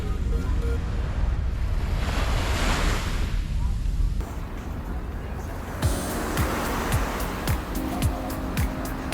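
Waves washing onto a long beach at El Nido in the Philippines, a steady broad surf roar with wind buffeting the microphone, shifting texture partway through as the rush continues without speech.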